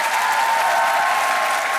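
A studio audience bursts into loud, dense applause after a singer's performance on a Croatian television talent show, the clapping steady and close throughout with no voices standing out.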